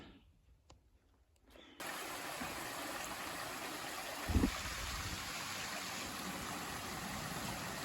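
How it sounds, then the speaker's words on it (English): A cascading water source on the Appalachian Trail in the New Jersey highlands sets in abruptly as a steady broadband rush of flowing water, with a brief thump partway through and no talk. "What a nice cascading water source."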